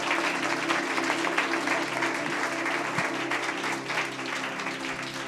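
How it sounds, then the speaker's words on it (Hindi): Loud, sustained applause from a church congregation during a sermon, a dense continuous wash of clapping lasting several seconds with no clear talk over it. "जोरदार ताली बजाना चाहिए जोर से।"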